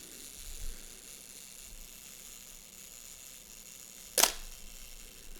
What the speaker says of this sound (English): We have got also self-timer, we charge, and the shutter starts.